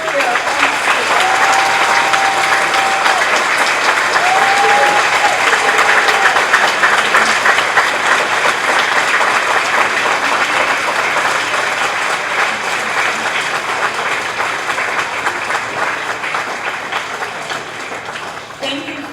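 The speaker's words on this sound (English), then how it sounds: "I would especially like to ask for a round of applause for any military service members" Audience at a school Flag Day event with a second-grade chorus gives a long, steady round of applause, dense clapping from a crowd that holds for the whole stretch and slowly fades near the end.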